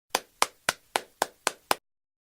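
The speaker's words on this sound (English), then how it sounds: "Can you clap your hands?" Seven crisp hand claps in a steady, even rhythm, close and clear, followed by silence.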